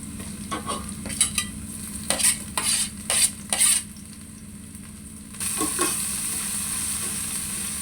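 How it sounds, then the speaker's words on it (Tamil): Ginger-garlic paste sautés in hot oil in a pan, a loud sizzle broken by several sharp scraping stirs in the first half, then a steadier frying hiss. "இந்த இஞ்சி பூண்டு பேஸ்ட்டை போட்டுக்கலாம்"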